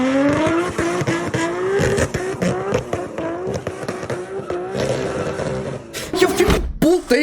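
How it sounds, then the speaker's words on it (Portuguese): A big-turbo Nissan Skyline R34 with an RB26 engine roars loudly, its pitch climbing through repeated revs with sharp pops and crackles near the end, close by. "Olha o ronco desses carros, velho."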